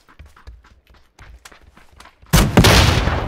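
Panzerfaust rocket fired in PUBG: a sudden, loud, broad blast near the end, preceded by a string of quiet footsteps.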